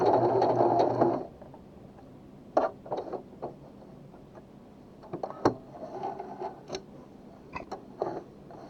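A Pfaff Smarter sewing machine stitching zigzag, a short loud burst of running motor at the start followed by scattered quieter clicks and brief whirs as the machine steps through stitches.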